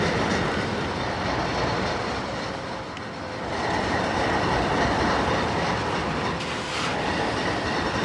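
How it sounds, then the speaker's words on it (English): A lone train locomotive with no cars attached rumbles near the Montreal airport, a continuous, heavy mechanical drone that holds fairly steady and close throughout, with a brief dip partway and no talk over it. "the front of a train, but there's nothing else connected to it."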